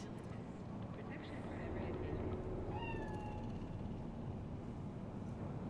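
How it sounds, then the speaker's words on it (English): A cat meows once in the video game Cyberpunk 2077, a short, fairly faint rising cry partly buried under a constant low city rumble and noise. "Do you see it? The cat."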